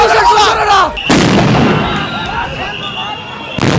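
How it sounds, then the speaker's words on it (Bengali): Police sound grenades go off during a clash with Prime Asia University students at the Secretariat: two sharp, loud blasts about two and a half seconds apart, each ringing out over raised, shouting voices. "পুলিশ কিন্তু কয়েকটি সাউন্ড গ্রেনেড ছুটে"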